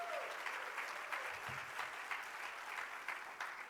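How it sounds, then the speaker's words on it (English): An audience claps in a round of applause during a teachers' union State of the Union address. The clapping is steady and fairly distant, somewhat faint, and lasts a few seconds. "Give them a round of applause."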